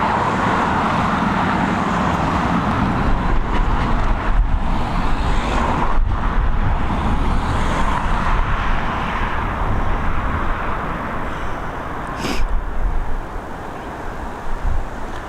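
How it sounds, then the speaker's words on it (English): A Ryanair Boeing 737 arriving at Dublin Airport from Stansted gives a continuous broad jet roar that swells and holds, heard from a distance with wind buffeting. No one speaks. "this Ryanair 737 coming in from Stansted"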